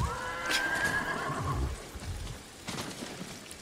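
A horse in the video game Ghost of Tsushima whinnies once near the start, a drawn-out high neigh, followed by softer shuffling and hoof-like clatter with no talking.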